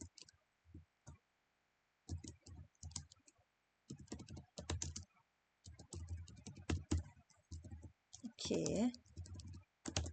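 Computer keyboard typing in short bursts of quick clicks with gaps between, close and fairly quiet, interleaved with a person talking.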